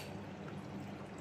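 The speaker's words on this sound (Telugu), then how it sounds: "సో ఇప్పుడు హాట్ వాటర్ అయితే పోయాలి." Hot water poured onto strawberry jelly powder, a short, steady, close pouring rush.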